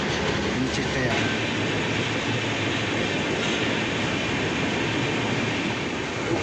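Saraighat Express sleeper-class train running at night on the Guwahati–Howrah line near Malda Town, a steady loud rumble of wheels and carriage noise filling the whole stretch, with faint voices underneath.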